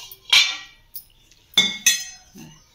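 A heavy brass pestle and mortar weighing 4.5 kg together, struck several times: sharp ringing metallic clanks in an irregular pattern with short gaps, fairly close and clear.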